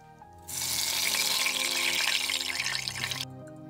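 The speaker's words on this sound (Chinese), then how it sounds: "250克去皮绿豆，加水洗干净，多冲2次就没有颜色了。" Tap water runs into a bowl to rinse 250 grams of peeled mung beans, a steady, loud splashing rush lasting about three seconds that starts abruptly and then cuts off.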